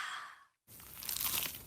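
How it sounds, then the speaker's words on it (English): Crisp crunch of biting into a cheesy pizza slice, a short breathy rustle, a moment of silence, then a loud crackling bite close up. "Is that the sound of an ooey gooey cheesy crunchy slice of P-I-Z-Z-A?"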